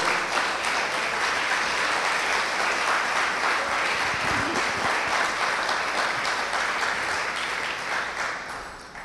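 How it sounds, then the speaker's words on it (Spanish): A church congregation at a Sunday service applauds in praise, a long unbroken roar of many clapping hands that holds steady and fades slightly toward the end. "Sí, aplaude al Señor."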